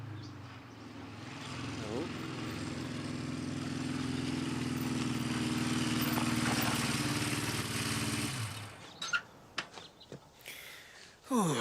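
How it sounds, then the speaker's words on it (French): An engine runs with a steady, low droning hum for about eight seconds, then cuts off, leaving a few scattered knocks and clatters. "le moteur tourne bien"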